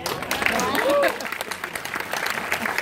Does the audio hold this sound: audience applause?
yes